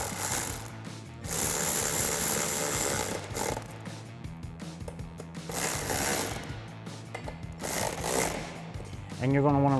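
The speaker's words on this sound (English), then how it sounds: "I'm going to take my 4mm and my 3/8 ratchet here, and we're going to run these in." Rapid clicking of a 3/8 ratchet with a 4mm socket running bolts in while installing a DV8 Offroad roof rack on a Jeep Wrangler JL, in repeated bursts, close and fairly loud, with someone talking over it.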